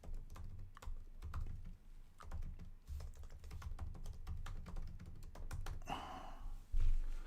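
Someone types on a computer keyboard nearby: soft, quick clusters of key taps with brief pauses between bursts, and a few heavier thunks toward the end, with no voices.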